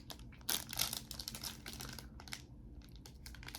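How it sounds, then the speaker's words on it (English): Crinkling plastic wrapper of a bag of Canadian candy bars, including O Henry bars, being torn and pulled open up close, with sharp crackling bursts early on and then softer rustling with no talk. "So we're going to open up the bag"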